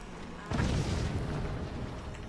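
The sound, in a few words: cannons firing in Forts RTS video game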